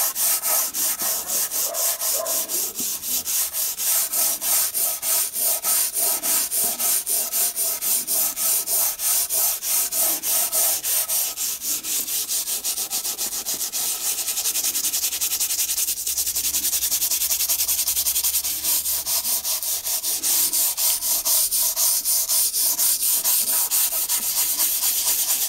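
A brush scrubs old leather on a Teleotto record player with rapid, rhythmic back-and-forth rubbing strokes, loud and close, continuing steadily without talk.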